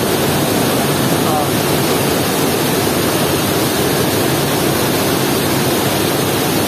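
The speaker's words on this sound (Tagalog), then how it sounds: "Daming tubig doon galing sa taas. Bumabagsak dito sa ilalim." Water pours down from above inside a cave at Wawa Dam, a loud, steady, unbroken rush of falling water that fills the whole space close by.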